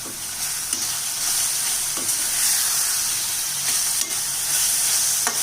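Ground coriander paste sautéing in oil for coriander rice, giving a loud, dense, continuous sizzle and hiss with a few faint stirring scrapes and no talk.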